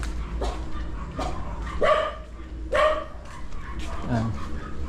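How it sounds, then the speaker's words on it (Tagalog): A dog barks several times at close range outdoors, a few sharp separate barks with two louder ones in the middle, over a low idling vehicle rumble. "Oh, may aso."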